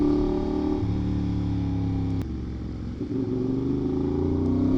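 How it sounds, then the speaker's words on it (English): Motorcycle engine idling and revving, with a sharp throttle blip during a clutchless downshift. The steady engine drone holds close and loud throughout, with a brief rise in revs near the middle and no talk. "you need to blip the throttle while downshifting, like that"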